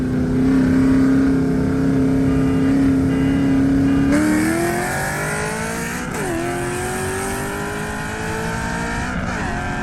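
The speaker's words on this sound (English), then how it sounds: "This will take my Mustang from the middle of first gear to the top of fourth." A Ford Mustang with the 3-valve 4.6 V8 roars hard under full throttle in a race, its loud engine note climbing steadily through the gears from first to fourth with brief dips at each shift.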